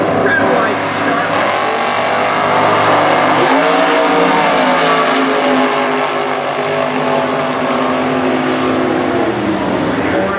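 A drag race car leaves the start line at a Super Gas drag race, a loud engine roar building sharply as it accelerates and then holding, with a commentator talking throughout.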